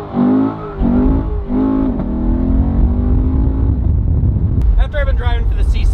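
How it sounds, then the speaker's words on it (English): A Chevrolet Corvette C7 Grand Sport launches hard off the line, its engine roaring up through the revs in loud, rising pulls with a brief shift break, close and dominant throughout. "Let's see what the C7 has off the line."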